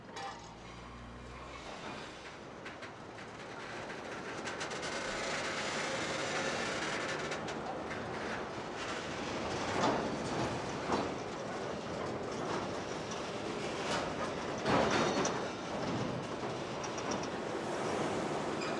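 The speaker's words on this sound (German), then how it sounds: "Zuerst rollen die Wagen auf die mittleren Gleise." Railway wagons roll onto the middle tracks of a train ferry at the old Sassnitz ferry port, giving a steady rumbling, grinding rail noise with clanks and squeals rising around the middle, with no talk over it.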